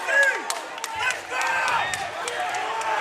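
MMA fight crowd at Triton Fights cheers and claps through the round, a moderately loud, busy roar with scattered sharp claps and thuds, heard under and between a commentator's voice.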